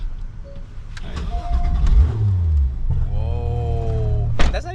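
A 2019 Porsche 911 GT3 RS Weissach Package engine cranks and catches, then settles into a loud, rough idle with rising revs, heard close up.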